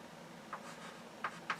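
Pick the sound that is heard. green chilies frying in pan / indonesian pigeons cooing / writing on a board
writing on a board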